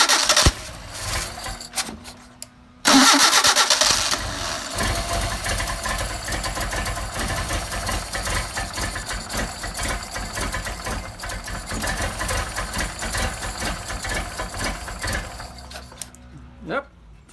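A Mercedes 190SL engine with Solex carburetors cranks briefly, catches and settles into a steady, loud running idle close by, then shuts off near the end.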